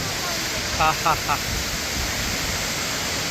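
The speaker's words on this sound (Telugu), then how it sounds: "నా లైఫ్లో బెస్ట్ వాటర్ ఫాల్స్ చూశాను ఇది" A steady, broad roar of water falling at Taraabu Waterfalls fills the scene, with a brief faint voice cutting through near the start.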